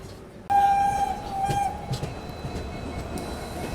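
The Dibrugarh Rajdhani Express crawls slowly into the outer approach of New Jalpaiguri (NJP) station, with a low rumbling roll and a brief metallic wheel squeal early on, then a steady hum and faint clanks.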